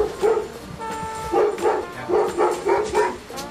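A dog barks repeatedly in quick yapping bursts, fairly close, with a steady rhythm of several barks over a few seconds.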